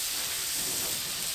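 Sticks of butter melting on a hot Blackstone griddle give off a steady, even hiss and sizzle, close and continuous with no other sounds.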